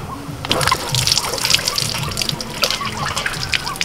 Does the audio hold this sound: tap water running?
yes